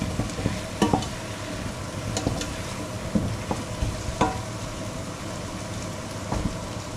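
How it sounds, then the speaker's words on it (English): Hokkaido pumpkin stirred in a cooking pot: repeated close scrapes and soft knocks of a spoon against the pot over a steady, sizzling hiss, with no one talking. "So I'm just going to do the mixing."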